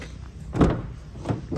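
Rear barn doors of a 2021 Mercedes Sprinter 314 CDi MWB van being opened, two muffled clunks of the latches and doors swinging, close by and moderately loud, with no talk.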